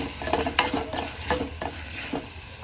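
Tomatoes salted and left to cook in a pan sizzle continuously, broken by a few soft stirring scrapes at irregular intervals, heard close and alone without talk.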